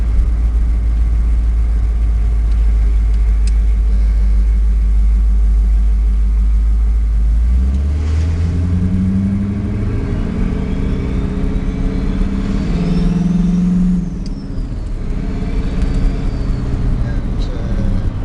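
A truck engine rumbles deep and throaty, idling heavily before revving up and down through a large muffler and 4-inch piping, with people talking over it.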